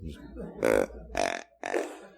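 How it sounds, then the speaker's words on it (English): Deer grunt call tube blown by a hunter, giving three short, loud, burp-like grunts spaced about half a second apart, up close and alone. "using a a grunt tube, or I call them burp tubes. It kind of sounds like a burp."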